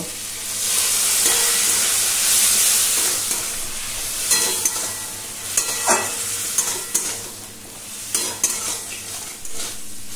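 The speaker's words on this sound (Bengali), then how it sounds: "সমস্ত কিছু খুব ভালো করে মিশিয়ে নেব" Vegetables, turmeric and chili powder are stirred together in a pan for a Bengali spinach and prawn ghonto, with steady loud sizzling. A spoon scrapes and clinks repeatedly against the pan, with no talk.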